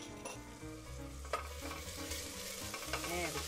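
Garlic and herbs such as thyme being stirred in a frying pan, a gentle close sizzle with soft scraping strokes and a faint hum beneath, no speech.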